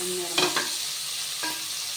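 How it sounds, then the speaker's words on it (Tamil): Thinly sliced onions fry in a pan for a paneer biryani, a steady close sizzle with two quick scraping stirs. "வெங்காயம் நல்லா வதங்கணும்"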